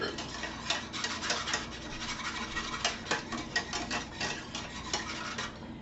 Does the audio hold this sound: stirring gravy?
yes